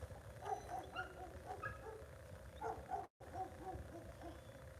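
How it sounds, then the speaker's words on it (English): Dogs bark in scattered yips and short bursts at a moderate distance outdoors by a river, fairly faint against background noise with a brief dropout. "Oh, they're barking at you?"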